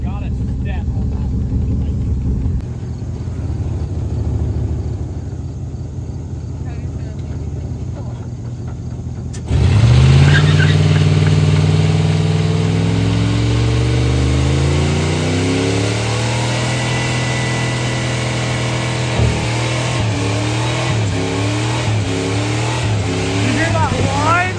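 A junkyard pickup truck engine fitted with a turbocharger idles roughly, then revs hard, a rising turbo whine sweeping upward and settling as the engine drops back, with voices talking over the noise.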